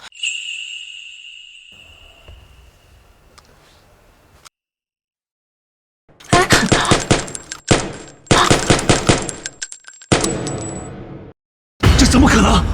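Bursts of gunfire aimed at a man, rapid automatic shots in dense clusters, loud and close, following a quieter stretch with a high ringing tone and low rumble, with a few seconds of silence between volleys.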